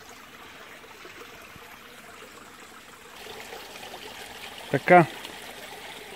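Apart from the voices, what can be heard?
water flowing through a pond filtration system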